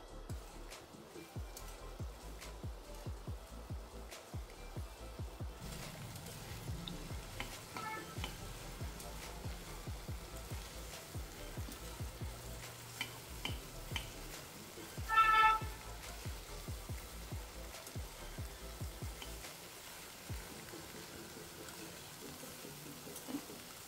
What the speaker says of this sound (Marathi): तेल थोडंसं गरम झालं की त्यात चिरलेली भेंडी टाकून व्यवस्थित भाजून घ्यायची.